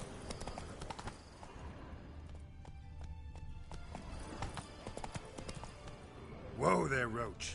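In the Witcher 3 video game, the horse Roach clip-clops along in a quick hoof rhythm at moderate distance, with someone talking over it and a short whinny near the end.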